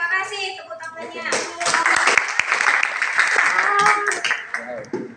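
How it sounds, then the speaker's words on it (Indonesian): A class applauds after a group presentation, with clapping swelling into a dense burst in the middle and then tapering off. Children's voices and talk carry on around and under the clapping. "terima kasih tepuk tangannya"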